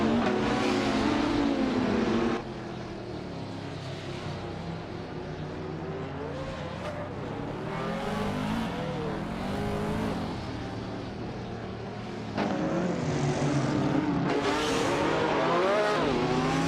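Race cars in a video game roar continuously at high revs, with engine pitch rising and falling as they accelerate and pass close by, dipping for a stretch before growing loud again.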